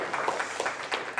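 Church congregation at a Sunday worship service applauding together, a brief soft patter of scattered clapping in a room, fairly faint, with no one speaking.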